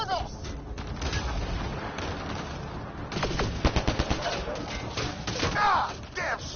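Firefight in the video game Mass Effect Andromeda: dense, continuous rapid gunfire with bursts of automatic fire and thuds, loud and close, with voices shouting underneath.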